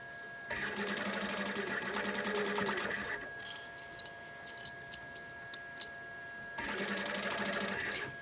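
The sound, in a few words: sewing machine stitching heavy fabric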